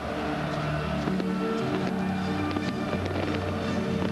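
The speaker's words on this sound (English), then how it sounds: "Great fireworks display here," Fireworks burst over a football stadium after a Bundesliga match between Bayern Munich and Stuttgart, a dense run of distant pops and crackles rolling on without pause, with no talk over them.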